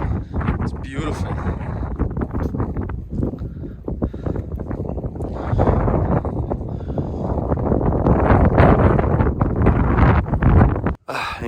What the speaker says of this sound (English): I don't know if you can hear me because of the wind.